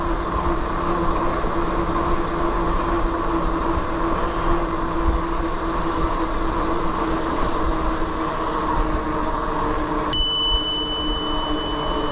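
A thin bicycle bell on an Aventon Aventure 2 e-bike rings once near the end, a bright short ding over steady loud rolling wind and tire noise on a trail ride.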